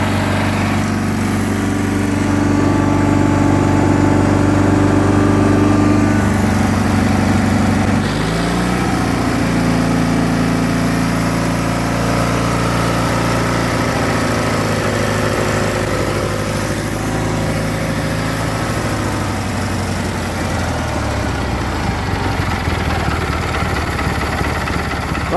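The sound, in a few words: Cub Cadet 1811 lawn tractor engine running with new carburetor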